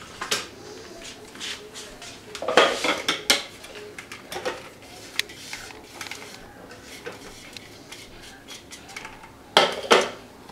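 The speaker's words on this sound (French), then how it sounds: "Je vais les mettre dans le même bol. J'ai besoin d'une spatule." Ingredients being put into a bowl while making chocolate balls, with dishes and utensils clinking and clattering in scattered, close bursts and brief quiet gaps between them.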